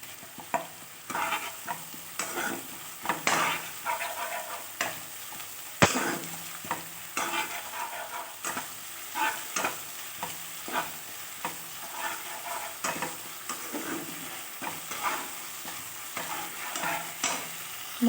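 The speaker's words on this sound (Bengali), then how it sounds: "এবার আদা রসুন আর কাঁচা লঙ্কার পেস্টটাও আমি দিয়ে দিলাম, দিয়ে একটু নেড়ে চেড়ে নেব।" A paste of ginger, garlic and green chilli is stirred into hot oil in a pan for a Bengali egg curry, with steady close sizzling broken by repeated scraping strokes of the spoon and no talking.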